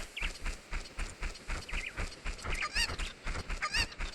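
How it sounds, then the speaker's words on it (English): A chicken in a Zelda game clucks in quick repeated bursts over a steady rhythmic patter of footsteps, close and moderately loud, with no talking. "There's a little chicken over here."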